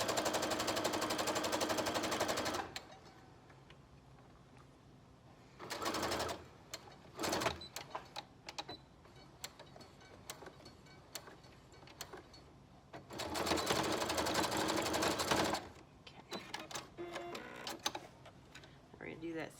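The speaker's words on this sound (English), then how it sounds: "I'm just going to sew all the way down to here, and then I'm going to go back and forth a little bit to secure that elastic." A sewing machine sews a pleated fabric mask with elastic, running in a long burst at the start, a short one midway and another near the end, with quiet handling between.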